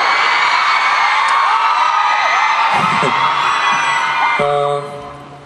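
A concert audience cheers after two songs, a loud, sustained wash of crowd shouting and whooping that fades near the end as a voice comes in.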